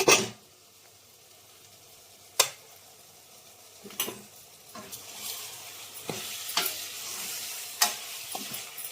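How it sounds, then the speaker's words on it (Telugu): Country chicken curry, village style, sizzles in a pot while a spoon scrapes and knocks against the metal in sharp intermittent strokes, close and clear over a constant frying hiss. "దీన్ని మూత పెట్టి 5 నిమిషాలు మళ్ళీ వేగనిద్దాం."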